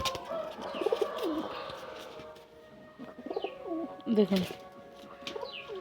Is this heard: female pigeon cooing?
yes